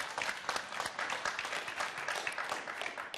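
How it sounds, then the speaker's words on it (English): Audience applause at an education policy event, dense steady clapping from a roomful of people, fairly close and even throughout with no voices over it. "that clap was initiated by Representative Torbett"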